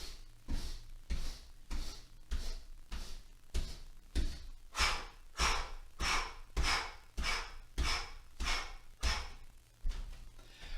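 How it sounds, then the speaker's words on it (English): Deliberately loud, rhythmic breathing paced to walking as a puff-breathing drill: about twenty sharp in-and-out breaths in steady succession, close and fairly loud, each paired with a soft low footfall thud. "I'm purposefully making noise so that you can just match how I'm breathing with the footfalls."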